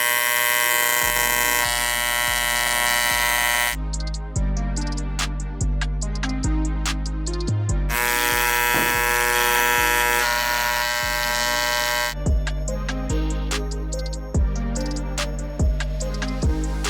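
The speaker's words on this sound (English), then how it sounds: "So Dom's just gonna cut 2 flats on this weld bung from Vibrant" A milling machine cuts two flats on a Vibrant weld bung, giving a steady close whine whose pitch and texture shift between passes, with regular sharp ticks throughout.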